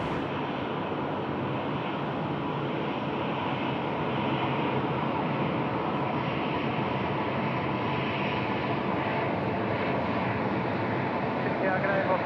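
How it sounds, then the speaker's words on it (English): Heavy jet aircraft depart at night from Sydney Airport with a steady, broad engine roar that holds throughout at moderate distance, while a voice talks over it. "Lots of heavy aircraft departing and getting underway at all at around the same time."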